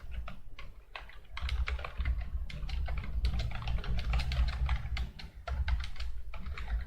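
Code is typed on a computer keyboard in rapid, uneven bursts of close, crisp key clicks with brief pauses, and no one speaks.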